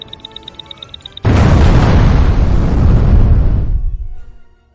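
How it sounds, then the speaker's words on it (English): A loud animated-comic explosion erupts suddenly after a faint ticking beep, a sustained roaring blast that holds for a few seconds before trailing off, with no voices over it. "The explosion was incendiary."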